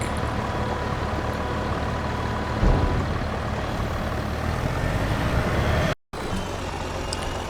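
A truck engine drones steadily while driving in Farming Simulator 22 on a snowy farm, a constant mid-level hum with a brief thump partway through and a momentary dropout near the end, no voices.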